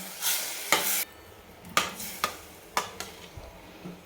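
Water poured into a pot of spicy brinjal curry, then stirred with several sharp scrapes and knocks of a utensil against the pan; close and clear, with no talk.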